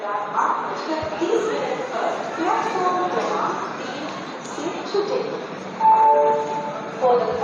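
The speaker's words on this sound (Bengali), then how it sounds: "আমাদের ট্রেন ছেড়ে দিল শালিমার থেকে" A general-class passenger train pulls out of Shalimar station bound for Puri, giving a steady rolling rumble and rattling carriage noise throughout, with voices talking over it and a louder clatter near the end.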